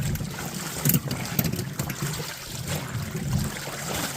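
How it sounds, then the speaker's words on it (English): A homemade manual dasher washer agitates laundry in water, giving a steady wet sloshing and churning with a few heavier surges, close and continuous throughout. "I don't know any manual machine that I've ever seen or used that agitates as well as this thing does."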